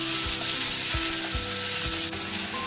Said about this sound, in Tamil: இப்போ இது வந்து கொஞ்சம் வதங்கிடுச்சு.